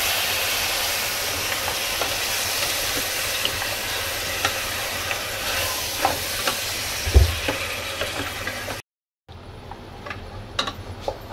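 Goat mutton gravy with spices, Karnataka style, stirred in a pan: a steady sizzle with scraping and stirring strokes, one short pause near the end, then more stirring. No talk.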